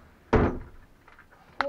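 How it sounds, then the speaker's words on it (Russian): A door is pushed shut with one loud, close thud, followed by a quieter second knock of the latch a moment later. "Закрывай дверь."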